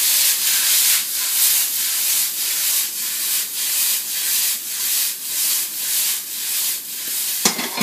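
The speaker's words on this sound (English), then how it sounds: "he uses our Ozeri electric pepper mill" Ozeri electric pepper mill grinding in a kitchen, a close, steady gritty whir pulsing in regular bursts about every half second, ending with a sharp click.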